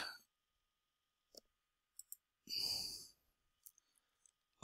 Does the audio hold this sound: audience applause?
no